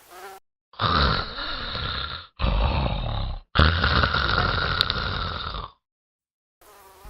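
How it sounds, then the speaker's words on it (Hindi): Three long, heavy, rumbling snores from a man sleeping on a rooftop on a hot summer night come one after another, loud and close, with short silent gaps between them. "पापा की खर्राटे सुनो, ऐसा लग रहा है ट्रैक्टर चल रहा है"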